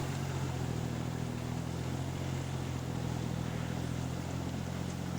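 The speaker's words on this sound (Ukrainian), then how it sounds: "один із перших міні-тракторів Кубота" An early Kubota mini tractor engine idles steadily, a low, even mechanical hum with a faint rattle, continuous and moderately distant throughout without change in pace.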